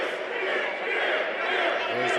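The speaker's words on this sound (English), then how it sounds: "There's the crowd solidly behind the Lakota Warrior Red Cloud" A wrestling crowd at a live independent show roars in a steady, dense wall of cheering and shouting for the Lakota warrior wrestler Red Cloud, loud and sustained throughout, with a voice rising briefly near the end.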